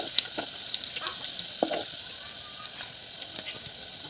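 Mustard seeds and fenugreek seeds sizzle steadily in hot oil for a bamboo shoot pickle, a continuous crackling hiss dotted with sharp little pops, close and fairly loud with no voices.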